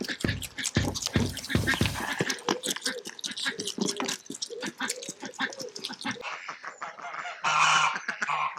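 A mama duck sitting on eggs calls out with a rapid run of loud, harsh honking quacks up close, then lower drawn-out grumbles and a final raspy call.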